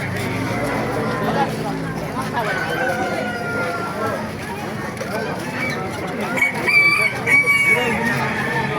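Roosters crow repeatedly at a busy chicken market in Baliuag, Bulacan, their calls rising over a constant hubbub of people talking nearby.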